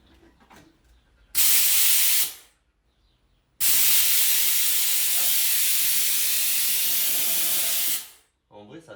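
Powerful vacuum suction with a loud broadband rushing hiss in two bursts, a short one then a longer sustained pull, separated by quiet moments with faint room noise and brief talk around them.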